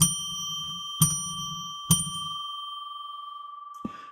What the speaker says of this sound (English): I'm going to ring a bell 3 times to get us into sacred space